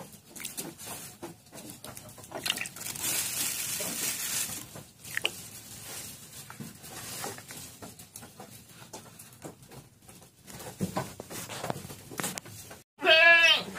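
Goats being fed brown sugar bleat and shuffle nearby, with scattered patter and rustling throughout and one loud, wavering bleat bursting out close at the end.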